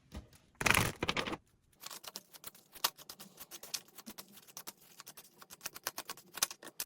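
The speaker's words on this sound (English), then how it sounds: "I'm going to shuffle out some cards just so we have what we need to ready." Tarot cards being shuffled by hand: a loud burst of riffling and flapping card stock near the start, followed by a steady patter of small taps and flicks as the cards are handled close up, with no talking.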